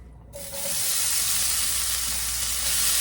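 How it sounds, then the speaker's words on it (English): Potatoes fry in very hot oil, a loud, dense, continuous sizzle that swells up after a brief quiet start and holds steady throughout. "we just want to get these potatoes kind of browned up like"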